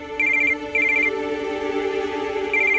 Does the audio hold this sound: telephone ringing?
yes